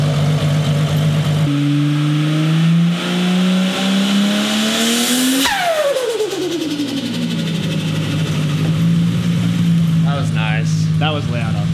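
Turbo flutter comes through a 3.5-inch stainless 90-degree dose pipe on a VL turbo car as the engine revs up. A sharp release follows with a long, deep chattering follow-on, and the car then settles back to a steady rumble with further revs. Voices are heard in the background.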